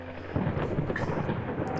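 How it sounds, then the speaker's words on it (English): Thunder in the Layers of Fear video game: a deep, rumbling roll of thunder with a soft crackle, heard alone at moderate level and lasting under two seconds. "It's thundering."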